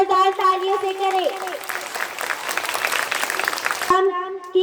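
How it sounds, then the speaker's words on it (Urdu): A school audience at an Independence Day program applauds to welcome the guests, a steady patter of clapping from the room that starts under a speaker's voice and stops as she speaks again. "ان کا استقبال زوردار تالیوں سے کریں۔"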